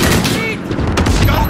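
A loud, dense burst of rapid gunfire in Call of Duty: Modern Warfare during a campaign mission, several overlapping shots packed into a moment of combat.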